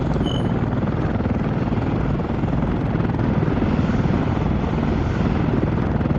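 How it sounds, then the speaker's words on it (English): A Chinook helicopter coming in to land in the game Arma 3, a loud, constant rotor and engine roar that stays dense and unbroken throughout. "Okay, Chinook's going into land."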